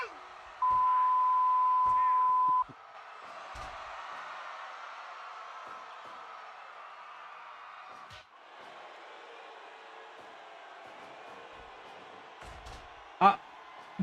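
A single steady electronic answering-machine beep sounds for about two seconds near the start, followed by low game background noise with a few faint thumps and a sharp knock near the end.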